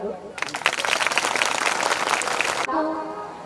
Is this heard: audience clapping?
yes